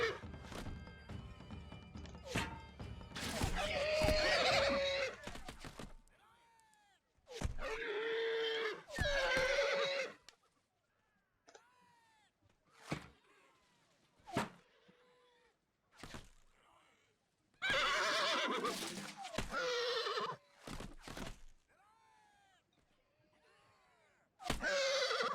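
Horses neigh and whinny repeatedly in a Shogun: Total War battle, several loud bursts separated by quiet gaps and dull thumps, with no talking.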